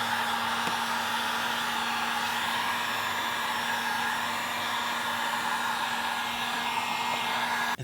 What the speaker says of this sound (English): Use a heat gun to heat up the glue